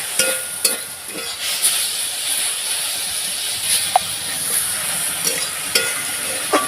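Drumstick flowers fry in a pan while being stirred, giving a steady bright sizzle broken by occasional soft scraping strokes, close by and with no voices.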